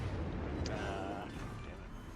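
Battleship gunfire and an explosion in World of Warships Legends, a dense rumbling boom that stays loud and roughly steady before easing slightly, with a brief sharper burst early on.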